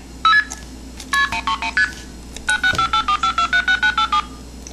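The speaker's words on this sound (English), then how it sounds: "And this is MF mode, or an MF sequence." An Esquire blue box replica plays an MF tone sequence: a short burst, then two rapid runs of crisp, evenly spaced electronic multi-frequency beeps, loud and clean with brief gaps between groups.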